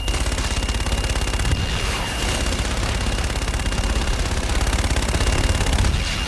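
A called-in fire strike in Call of Duty Infinite Warfare pounds down as dense, continuous rapid gunfire, loud and sustained for several seconds with little pause.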